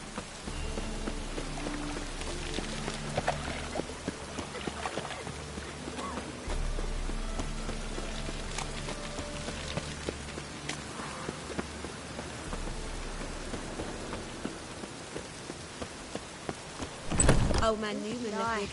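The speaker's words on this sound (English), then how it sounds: "Rain again." Rain in The Witcher 3 falls steadily as a constant soft hiss of drops, with a faint rumble underneath and a brief louder burst near the end, while voices talk over it.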